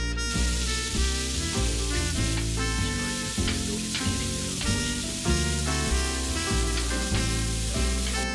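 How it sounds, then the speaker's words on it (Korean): Bacon fries in a single frying pan, a steady, close crackling sizzle with scattered pops, heard alone and under soft background music. "베이컨을 넣고 익혀줍니다."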